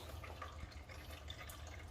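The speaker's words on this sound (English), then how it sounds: "Oil still dripping, the oil pan right there." Oil dripping from the engine of a 2009-or-later Hyundai Genesis or Santa Fe into the oil pan during timing cover removal, a steady faint patter of drops over a continuous low hum, with no voices.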